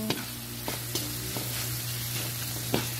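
Sautéed bottle gourd with fish sauce being stirred in a pan, a steady frying sizzle with a few soft utensil scrapes and knocks at irregular intervals, close and fairly quiet, no talking.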